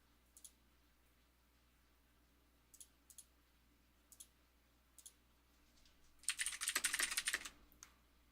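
Bursts of computer keyboard typing at a game developer's desk: a few isolated keystroke clicks spaced a second or so apart, then a dense, louder flurry of rapid key presses near the end, close and alone with no talk.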